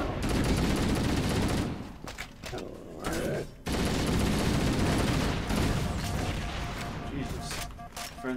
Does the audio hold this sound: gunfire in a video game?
yes